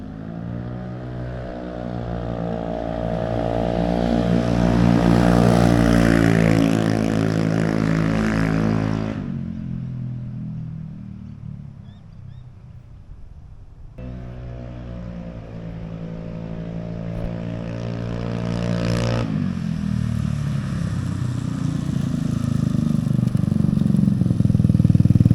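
Scooter fitted with a loud aftermarket AliExpress exhaust passes by twice, each pass rising to a loud, harsh engine roar and then dropping away, with continuous engine drone in between.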